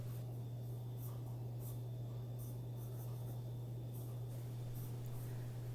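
Soft, steady scratching of a pencil on paper for a tonal sketch, close and quiet, continuous strokes with a low hum in the background.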